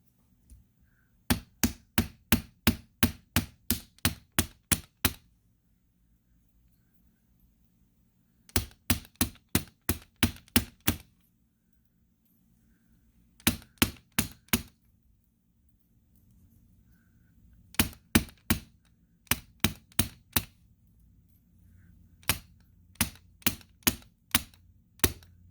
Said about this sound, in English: Hammer both sides of each spiral with the rawhide mallet on the bench block to flatten.